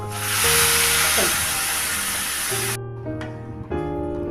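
Dal poured into a hot pan of golden fried onions bursts into a loud, steady sizzle that cuts off abruptly, with a few hums and faint kitchen sounds continuing afterward.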